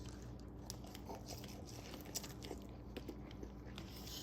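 Someone bites and chews into a grilled beer brat topped with onions, cooked on a Weber Q2800N+ gas grill, making soft, close, wet crunching and mastication sounds over about four seconds, with no speech.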